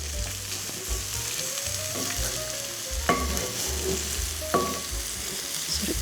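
Big mushrooms fry in butter and oil with a steady sizzle while a utensil stirs them. The low scraping and clunks against the pan sound close and recur irregularly, with no talking.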